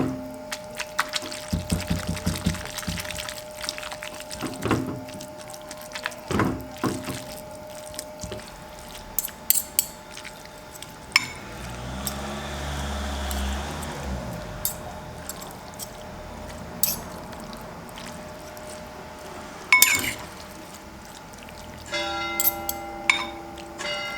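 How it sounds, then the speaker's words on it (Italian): Pasta cooking water poured into walnut and feta pesto over hot spaghetti, a brief wet pour and squish among scattered clinks and drips in a quiet kitchen. "un goccino d'acqua di cottura della pasta per ammorbidire il tutto"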